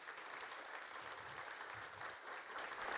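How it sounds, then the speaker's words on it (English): Steady applause fills a room at a public safety awards ceremony, a dense, even wash of clapping from a seated audience that holds for the whole stretch without talk over it. "We need a round of applause for Becky."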